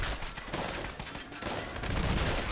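Rapid explosive-weapon gunfire in the Fallout 76 video game, a dense run of shots and blasts with no gaps, loud and steady throughout and building slightly toward the end.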